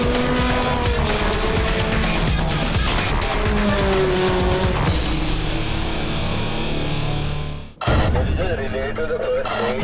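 All-terrain rally cars from the 16th Raid de Himalaya roar loudly and continuously with revving engines and squealing, skidding tires, briefly cutting out near the end before resuming, with some voices mixed in.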